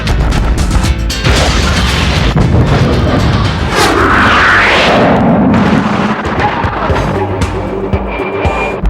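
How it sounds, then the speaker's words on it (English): Munitions explosions from F-16 weapons such as cluster bombs or AGM-65 Maverick missiles, loud booming blasts and rolling crashes that rumble on for several seconds, close and dominant. "The F-16 can also employ an impressive variety of munitions, from cluster bombs to AGM-65 Maverick missiles."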